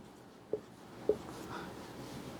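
Pen writing out a subset during an online maths class, two brief taps followed by faint soft scratching strokes, close and quiet, no talk.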